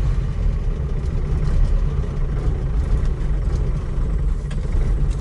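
A ZAZ-968M car engine runs with a steady low rumble, close and loud, holding an even idle-like drone throughout.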